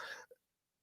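A single short cough from a person with allergies, close and abrupt, followed by near silence.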